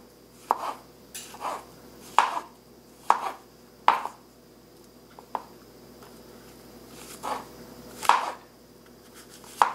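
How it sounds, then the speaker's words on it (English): Knife chopping mushrooms into smaller pieces on a cutting board for an omelette with potato, tomato and onion, a series of sharp, close, irregularly spaced cuts with quiet gaps between them and no talking. "we'll cut the mushroom also into smaller pieces"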